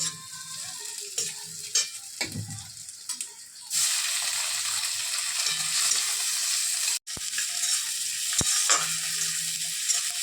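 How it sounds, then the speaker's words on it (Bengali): Chopped tomatoes hit a pan of frying onions, dried chillies and whole cumin in a home kitchen, giving a soft steady sizzle with spatula scrapes and stirring clatter, and one sharp knock near the end. "এখন দিয়ে দেব টমেটো"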